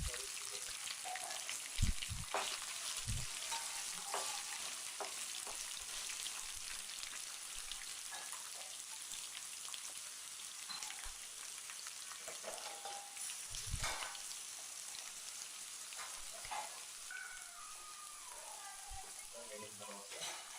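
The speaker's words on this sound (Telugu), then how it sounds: "బాగా వేపుకున్న తర్వాత ఎండుమిర్చి, కరివేపాకును కూడా వేయాలి. మరో 2 నిమిషాలు వేగిన తర్వాత" Dried red chillies and curry leaves fry in oil for tamarind rice, making a faint, continuous sizzle with occasional soft clinks and knocks over a long stretch.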